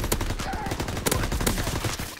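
Rapid gunfire in an online free-for-all match of Call of Duty: World War II: sharp, close shots in quick bursts over a dense, steady bed of game noise, with no talk.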